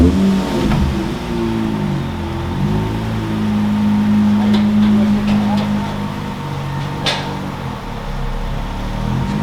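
A teal car's engine idles and rumbles steadily as it is driven in slowly, with brief revs and people talking nearby over the hum.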